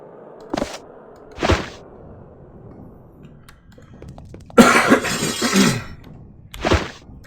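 A man getting over a cough coughs several times, close and moderately loud: two short dry bursts, then a longer rough fit after a quiet pause, and one final cough.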